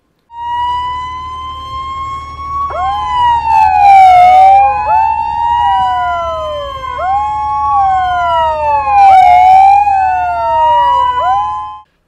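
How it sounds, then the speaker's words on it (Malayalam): A civil defence siren sounds during a nationwide mock drill, a loud, close, rising and falling electronic wail that cycles steadily with a low engine rumble underneath. "വൈകുന്നേരം 4 മണിക്ക് രാജ്യത്താകെ ഒരേ സമയം സൈറൺ മുഴങ്ങി."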